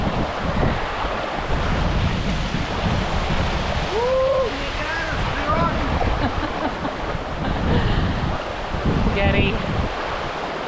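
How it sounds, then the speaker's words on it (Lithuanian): A waterfall on a mountain river in Spain roars steadily and loudly close by. The dense rushing water fills the whole stretch, with faint high calls or voices briefly rising above it. "Krioklys! Taip, matas krioklys."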